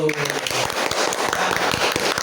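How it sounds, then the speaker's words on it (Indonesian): A classroom gives a short burst of clapping for a group's poster, with a voice trailing off at the start and chatter mixed into the applause. "Kita kasih tepuk tangan dulu"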